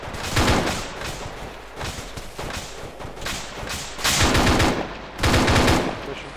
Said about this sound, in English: They're shooting back at us.